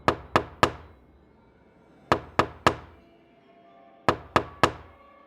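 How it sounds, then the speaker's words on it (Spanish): Three sharp knocks on a wooden bedroom door, a pause, three more, another pause, then three again, each knock crisp and close with a short hollow decay, in a silent room. "Algo estaba golpeando la puerta de mi habitación, aproximadamente una vez cada 3 segundos."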